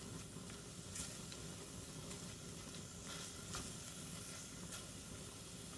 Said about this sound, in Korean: 마늘을 넣고 이렇게 달달달달 볶아주세요